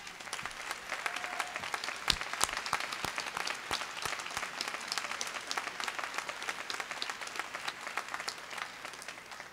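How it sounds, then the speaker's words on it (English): Steady applause from a commencement audience at a School of Business and Information Systems graduation, many hands clapping in a dense, even patter with a few sharper claps standing out, no voices over it. "please join me in another round of applause"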